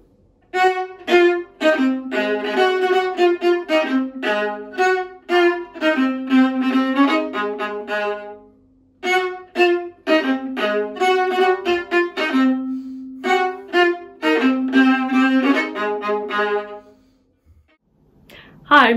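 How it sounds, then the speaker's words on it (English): A solo viola, bowed, plays a melodic passage of sustained and moving notes in two phrases separated by a brief pause, clear and close, ending in near silence. "This is the viola."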